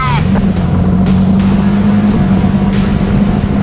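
A Suzuki Gixxer 155 Fi motorcycle rides at speed, a steady engine drone with a strong low hum, close and continuous, overlaid with rushing wind noise and occasional brief whooshes of passing traffic.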